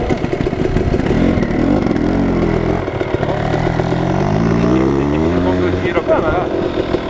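Motorcycle ridden on a road near Busalla, its engine loud and close with shifting revs and clatter, while people talk over it.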